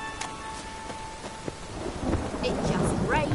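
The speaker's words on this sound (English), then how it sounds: "It just rains and rains." Steady rain pattering alongside a low rolling rumble of thunder in The Witcher 3, a dense wash of rain swelling louder toward the end.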